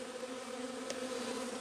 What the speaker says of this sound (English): Now bees all over my workstation.